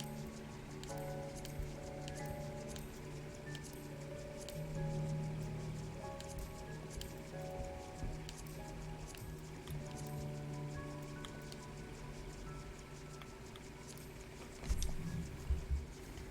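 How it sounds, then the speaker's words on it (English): Steady rain patters across the Lakeland area in Final Fantasy XIV, with fine ticking drops and soft rustling, quiet throughout and with no voices. "That hard rain, though, it's such a mood."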